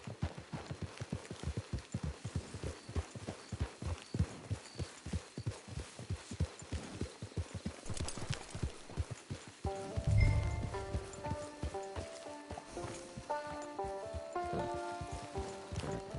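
Rhythmic horse hoofbeats in Red Dead Redemption 2 trot steadily at a quick pace, then give way partway through to a thud and sustained tonal music.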